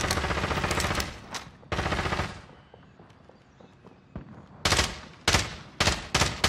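Video game gunfire arrives in loud automatic bursts, a long one at the start and another after a pause, then a quieter stretch of scattered distant shots and footsteps before several short, close bursts return.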